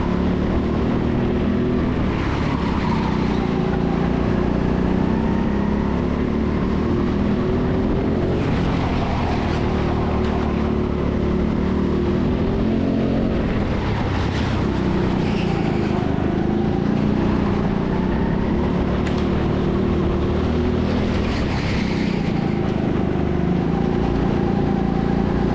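Several go-karts race around TeamSport Sheffield's indoor track, a steady, close engine drone that rises and falls in pitch as the karts lap, with brief scrubbing surges and no voices.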